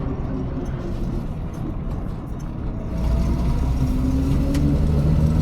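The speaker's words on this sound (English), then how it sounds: "Strong motor though." An unrestored barn-find 1965 Ford Mustang coupe with a 200ci engine runs at a steady idle, a close, continuous low rumble that grows slightly louder partway through.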